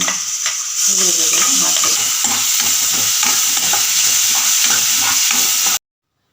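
A coarse onion, ginger and garlic paste fries and is stirred in a pan, giving a steady, close, loud sizzle with scraping strokes that runs for several seconds and then cuts off abruptly.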